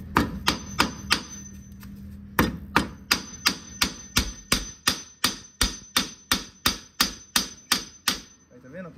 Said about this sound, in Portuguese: Vem com o martelo.